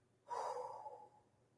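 A single deep, long exhale performed as a relaxation breathing technique for de-stressing, a breathy rush that begins sharply and tapers off over about a second, close and alone.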